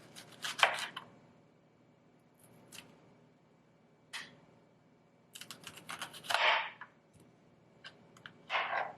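A knife cuts through salad vegetables on a board during meal prep, making scattered crisp chops in small clusters with quiet gaps between, fairly close and soft.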